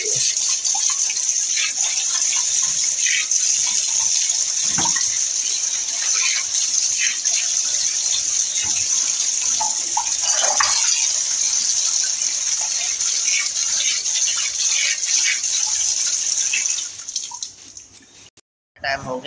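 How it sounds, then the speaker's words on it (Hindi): Strong steady gush of tap water running while mangoes are washed under a faucet, loud and continuous with small splashes, then cutting off near the end. "क्योंकि अभी नल आ ही रहे हैं पीने वाला पानी का, तो ये इनको अच्छे से हम धो लेते हैं"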